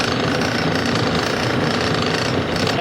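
A small gouge cutting a wooden chess piece spinning on a lathe, a continuous rough, loud scraping buzz throughout, nearby and without talking.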